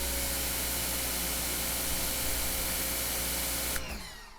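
A Prymax electric pressure washer sprays through a 15-degree tip, a loud, continuous broadband hiss with the motor droning beneath, cutting off abruptly near the end.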